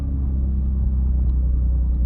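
Built BMW M340i with a big turbo, built motor and upgraded fuel system, idling with a deep, loud, steady rumble close by, no voices over it.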